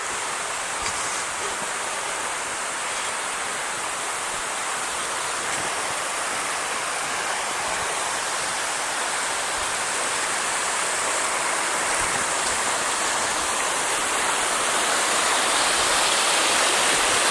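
Water rushing steadily near a mountain trail, a continuous broadband roar like a stream or small waterfall, close and loud throughout with no voices.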